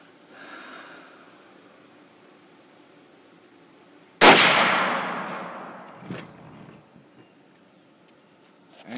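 A single sharp Mossberg .308 rifle shot fired outdoors at night, loud and close, with a long decaying echo rolling away over several seconds after quiet ambient noise.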